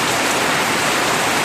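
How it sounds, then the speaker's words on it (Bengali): Heavy rain pours down steadily in a dense, even hiss at close range, unbroken and with no voices. "বৃষ্টিটা থামুক"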